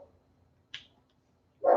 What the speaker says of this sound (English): my dogs will bark at them